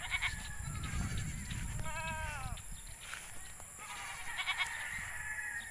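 Goats on a small family goat farm bleat several times in wavering calls at moderate distance while grazing in the morning, over a constant insect-like hiss and faint rustling.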